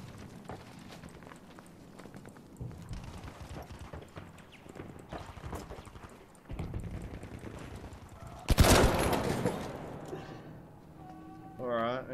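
Machine gun fire rattles in a Battlefield V multiplayer match, with a loud sharp burst standing out partway through amid busy battle noise and clattering effects.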